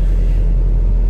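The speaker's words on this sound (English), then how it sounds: "I'm in the car right now. Just got it started" A McLaren sports car's engine idles with a steady, deep, close rumble, just after being started.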